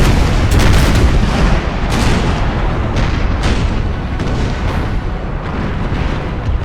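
Grapeshot cannon volleys from Napoleonic Total War 3, a dense, loud barrage of booming artillery fire rolling continuously with overlapping blasts throughout.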